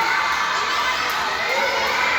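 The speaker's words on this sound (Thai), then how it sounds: "กองเชียร์เชียร์กันสนั่นบันไหวแล้วครับ" A school crowd cheering a 100 m breaststroke swimming race, a loud, sustained roar of children shouting and screaming encouragement that holds steady throughout.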